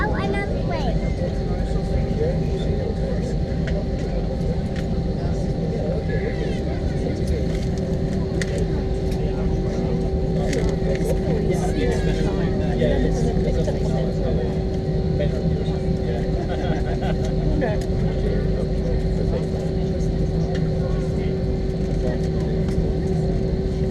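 Inside the cabin of a British Airways A320 taking off from Corfu Airport, a steady, loud engine roar and rumble persists throughout while passengers talk over it.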